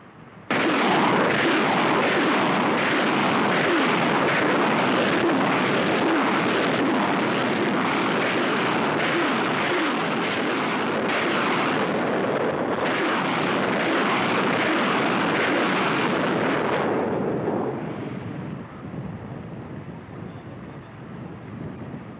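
Egyptian army firing live rockets, a sustained loud roar and rush that fills most of the stretch, then drops into a lower, fainter rumble near the end, with no voices.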